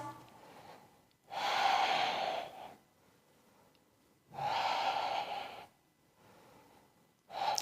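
Deep breathing during a beginner's dynamic yoga exercise: two long, airy inhales or exhales, each about a second and a half, separated by quiet pauses, close and fairly soft, with a third breath starting at the end.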